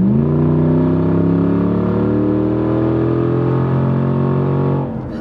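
A Jaguar XJ8 with a 3.2 V8 and its resonators and back boxes removed accelerates at full throttle, a loud deep engine note rising steadily in pitch for about five seconds, close and alone, then easing off.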